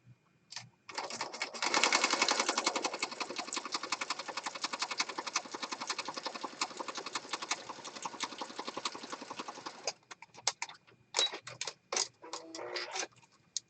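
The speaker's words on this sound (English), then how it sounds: "So I'm just going to stitch right down this edge." A sewing machine stitches down the edge of a junk journal page, a long run of fast, even mechanical ticking that stops abruptly, followed by a few short bursts of stitching and handling noises.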